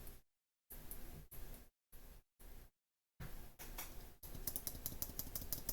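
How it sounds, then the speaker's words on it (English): Small electronic part for a Lego RC car project clicks in short, separated bursts, quiet and close, followed by a denser run of rapid clicking at the end. "That's a better clicking noise"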